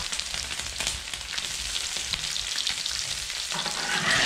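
Pork belly, scallions, shallots and shiitake mushrooms stir-fry in rendered fat with a close, continuous sizzle and crackle, and a spatula scrapes and stirs now and then.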